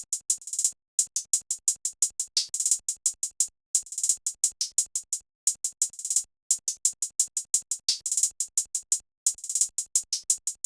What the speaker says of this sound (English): the hi-hat pattern, I just added a roll here and then like copied this over to the second half